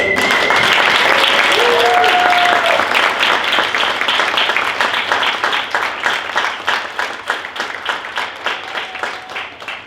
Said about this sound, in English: please let's give them a round of applause to celebrate